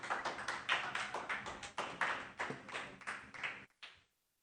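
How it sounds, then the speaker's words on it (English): Live audience applause for performer MJoy at The Fireside Lounge in Alameda: a dense burst of many hands clapping at close range, holding steady for several seconds before cutting off abruptly. "How about a round of applause for MJoy right there"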